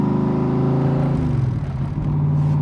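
Replica 1965 Shelby Cobra Backdraft RT4B with a Tremec transmission gives a loud, close engine rev that rises and then settles into a steady rumbling drone.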